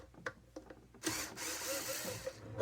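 Short burst of a power screwdriver unscrewing the top lid screw on a Bixpy J-2 pod adapter for a FeelFree Lure 10 V2 kayak, preceded by a few light clicks and handling taps.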